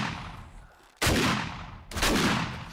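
Two sharp, loud gunshots in the 7 Days to Die video game, about a second apart, each with a sudden attack and a long echoing decay, over quiet game ambience.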